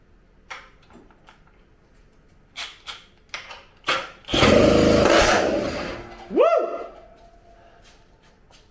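A McCulloch chainsaw engine fitted with a supercharger on a test stand sputters with a few sharp pops, then catches and roars loudly for about two seconds, runs on wide open, and cuts out with a rising whine.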